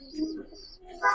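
A large, strong pigeon gives a brief, faint coo, followed by a slightly louder burst of sound at the very end.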